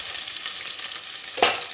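Chopped onions frying in hot oil for a Salem-style country chicken biryani, a steady broadband sizzle with one louder burst of crackle near the end as the pan is stirred.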